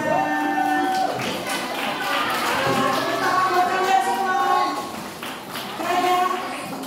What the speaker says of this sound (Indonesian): Yes, tepuk tangan buat kalian semua.